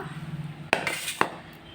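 A plate is handled in a home kitchen while chicken curry is prepared, giving two sharp, close clinks about half a second apart over a low steady hum.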